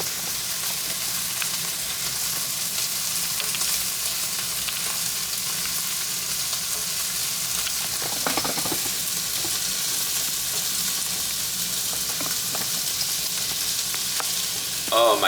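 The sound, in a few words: steak frying in a pan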